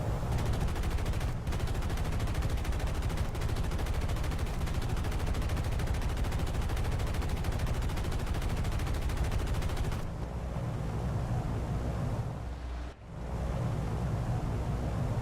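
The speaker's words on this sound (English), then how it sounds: "Do a bit of manual shooting as well." Sustained machine gun fire from the defensive gunners of a B-17E bomber in War Thunder, a dense continuous rattle of gunfire that breaks off briefly near the end before resuming.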